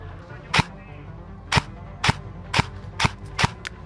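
Video game gunfire in a squad shooter: six sharp, loud single shots spaced roughly half a second to a second apart, each a crisp crack with a short tail, and no voices.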